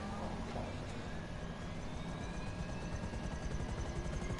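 A helicopter flies in the video game GTA 5 with a steady, fairly faint rotor thrum and engine drone that rises slightly over a few seconds, with no talking.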